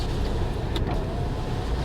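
A car's electric power window motor runs in one short, steady whir, close by, inside a salvage-auction car with the engine running, with no talking.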